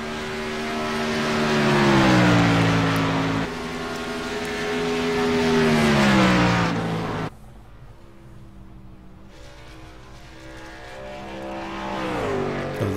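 Race cars roar past on an oval track in a late-race lap, two loud engine passes with falling Doppler pitch, then a quieter stretch of distant engine drone building toward another approach.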